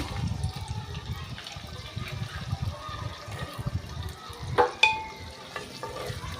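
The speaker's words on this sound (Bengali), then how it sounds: "আমি পেঁয়াজটা হালকা একটু ভেজে নেব।" Onions fry lightly in hot oil with bay leaf and garam masala, giving a soft continuous sizzle, stirring scrapes close by and a couple of sharper utensil clinks near the end.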